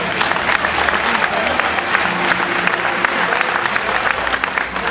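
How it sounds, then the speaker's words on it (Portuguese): Zoo audience at a dolphin show applauding for a male dolphin named Jax, a loud sustained wash of many hands clapping from a crowd, with a faint whistle-like tone above it. "O vosso aplauso para o Jax."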